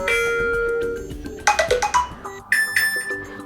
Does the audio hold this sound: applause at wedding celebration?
no